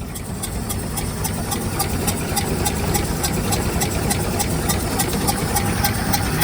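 A 1969 C30 truck engine idles close by with a deep, steady rumble. Its rough exhaust adds a regular ticking pulse throughout.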